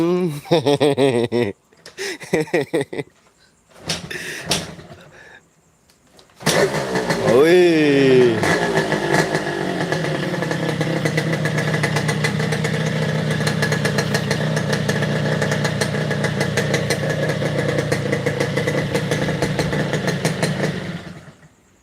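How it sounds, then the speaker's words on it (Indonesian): A Yamaha RX King 2005 motorcycle engine with its exhaust cranks and catches after a few brief voice sounds, then settles into a steady, loud idle that runs on close by. "Termasuk knalpot, suaranya masih suara ereking."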